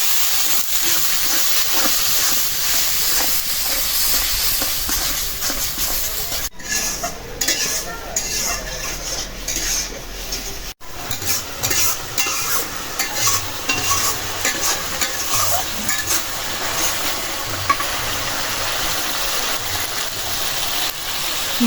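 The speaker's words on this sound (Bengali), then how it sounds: "মশলাটা কষাই নিলাম" Ground spices, including coriander and cumin with salt, are stir-fried in a pan with a dense, continuous sizzle and recurring scrapes of stirring, loud and close.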